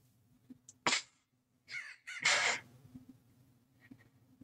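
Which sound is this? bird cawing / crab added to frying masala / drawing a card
bird cawing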